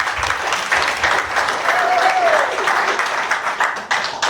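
A crowd at an end-of-season awards function for a rapid chess league breaks into close, lively applause, with a few whoops and voices in the mix as the clapping thins toward the end.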